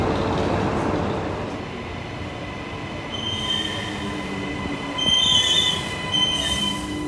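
Brisbane train wheels squealing on the rails, a sustained high-pitched screech that strengthens midway over a steady rolling rumble of the carriage, with no talk.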